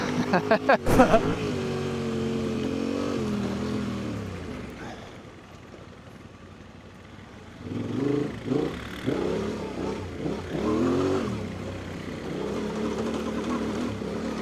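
An XR650L retro rally motorcycle accelerating off road, the engine revving in rising pulls, dropping off midway, then surging again with choppy throttle bursts, loud and close, with speech over parts of it.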